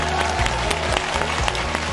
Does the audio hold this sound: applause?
yes